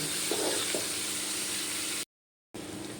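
Turmeric and cumin spice paste for tangra fish curry frying in a pan, giving a steady close sizzle with a couple of soft stirring scrapes and a brief cut to silence before the hiss resumes.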